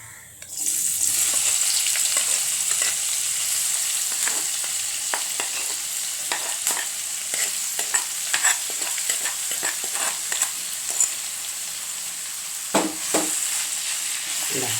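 Clams coated in masala powder hit a hot pan and fry with a loud, steady sizzle, punctuated by frequent scraping and tapping as they are stirred.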